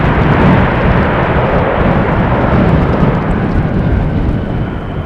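An airplane lands in a crosswind on runway 18R at Amsterdam Schiphol, a loud, continuous jet roar filling the whole stretch without letup and with no voices.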